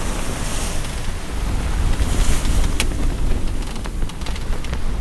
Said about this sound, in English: Wind's about 20, maybe gust to 25.